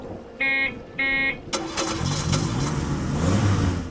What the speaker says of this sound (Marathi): मंग्याने गाडी स्टार्ट केली